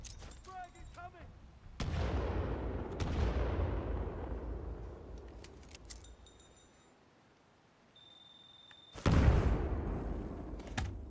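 Frag grenade blast in a video game, a sharp explosion with a long rumbling decay, followed later by a second loud burst, over game noise with voices talking.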